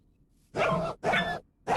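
A wolf-like dog in a video game barks three times in quick succession, loud and close, each sharp bark separated by brief silence.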